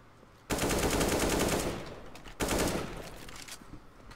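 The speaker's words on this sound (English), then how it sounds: "Just spray in there with the AK." AK rifle firing automatic bursts in a video game, two long loud sprays of rapid gunfire separated by a short pause, with no talk over it.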